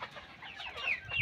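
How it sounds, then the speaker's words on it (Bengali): Native (deshi) chickens on a farm clucking and calling in a brief, faint burst, with a couple of higher squawks near the end. "এটা হলো আমার দেশি মুরগির ফার্ম।"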